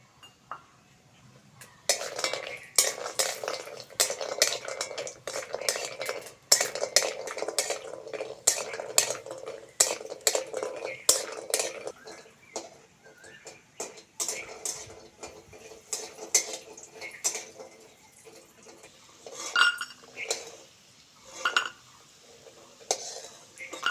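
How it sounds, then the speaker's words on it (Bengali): Urad dal bori fry in oil in a kadai while a utensil scrapes and clinks against the metal in repeated stirring strokes over a faint sizzle, busier at first and sparser later. "এবার কড়াই তেল দিয়ে বড়িগুলো ভেজে নেব।"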